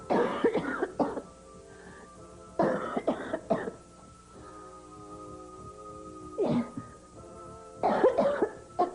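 Several bouts of close, harsh coughing, each a short burst of hacks separated by quiet pauses.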